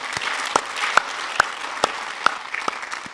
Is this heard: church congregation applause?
yes